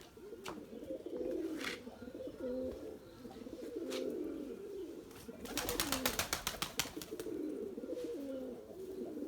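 Pigeons coo at dusk in a loft, several soft repeated coos near and far, with a burst of rapid wing flapping in the middle.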